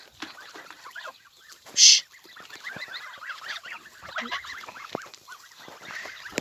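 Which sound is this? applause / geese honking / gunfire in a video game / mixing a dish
geese honking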